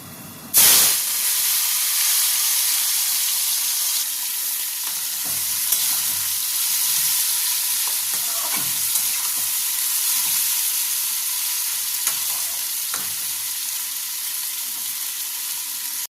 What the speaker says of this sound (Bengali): এদিকে আমাদের উচ্ছেটা ভাজা হচ্ছে, আরো কিছুক্ষণ হবে।